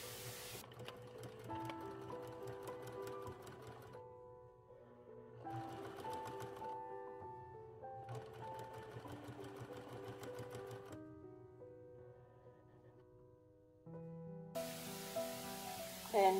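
A sewing machine stitches the front and back of an 1860s-style corset together in four rapid mechanical bursts separated by pauses, with soft background music running throughout.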